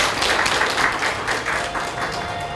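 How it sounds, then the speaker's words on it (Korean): A room of people at a Korean party council meeting applauds to welcome a speaker forward, a dense, steady burst of clapping from a seated crowd, with no speech over it. "앞으로 나오실 때 박수로 환영해 주시면 고맙겠습니다."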